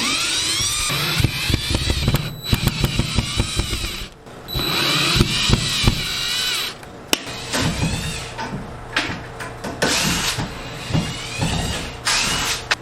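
A power drill backing old drywall screws out of wooden studs: repeated close bursts of high whining motor, each broken by short pauses and clicks, with scraping and handling noise in between.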